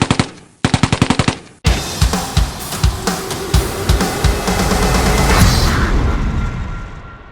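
Machine-gun fire as a dramatic sound effect: a quick string of evenly spaced bursts, a brief gap, then a loud, sustained roll of rapid shots with booming impacts that swells and slowly fades.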